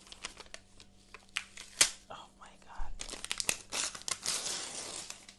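Paper crinkles and rustles in bursts at close range, with crisp tearing and crumpling sounds as a tablet's packaging is opened.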